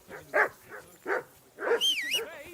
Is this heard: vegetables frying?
no